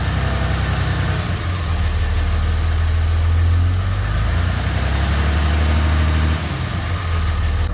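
A Dodge Ram truck engine runs in gear with its wheels lifted off the ground, a loud, steady low drone that swells slightly in the middle before settling back, close and with no talking.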